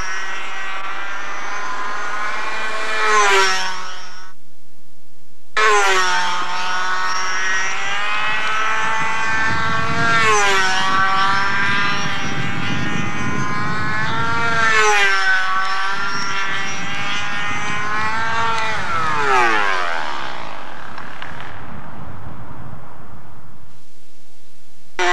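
A model airplane stunt motor, filmed in 1993 in windy conditions, runs as a loud buzzing whine that swells and sags in pitch, cuts out briefly early on, then returns for several long rising and falling sweeps before trailing off.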